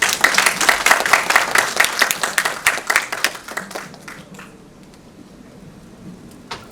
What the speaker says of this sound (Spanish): Excelente, un fuerte aplauso